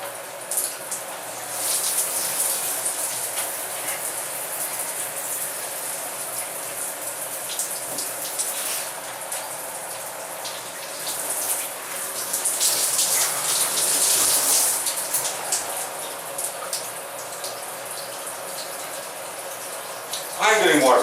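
Cold shower water pouring over football gear, a continuous hissing spray with splashy bursts and patters throughout, close and fairly loud, with no clear talk over it.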